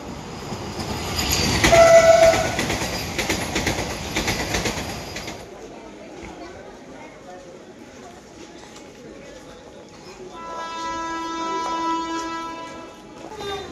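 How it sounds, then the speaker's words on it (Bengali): A train rumbles close by at a railway station and sounds its horn loudly in long tones, with clattering wheels and people talking nearby. "পেছন থেকে ট্রেন আসছে"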